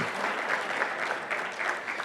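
An audience claps steadily, a warm even patter of many hands at moderate distance.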